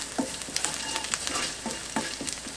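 Sliced onion sautéing in oil with garlic makes a soft, steady sizzle, punctuated by repeated light taps and scrapes of a utensil as it is stirred, heard alone without speech.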